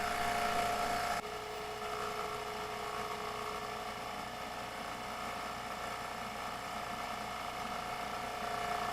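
A Vevor RR500 refrigerant recovery machine runs on a cold day with a single quarter-inch hose, giving a steady droning hum with a mechanical whir; a louder brighter layer cuts out after about a second, leaving an even, continuous motor drone.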